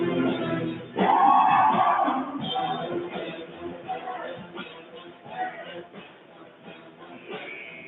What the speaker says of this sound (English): Cougars still with that nice little home crowd advantage with band, with the fans right behind the end line in the block